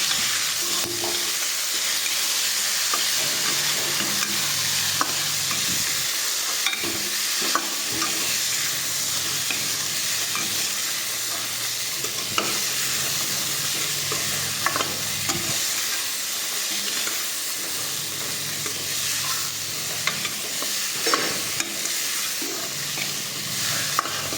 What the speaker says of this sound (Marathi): लगेचच आपण त्यामध्ये आपले हे उकडलेले चणे टाकून देणार आहोत आणि व्यवस्थित आता आपण ते हलवून देणार आहोत